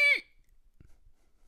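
A voice imitates car brakes squealing with a short, bright, high-pitched squeal that falls in pitch and cuts off quickly, followed by near silence with a faint soft knock.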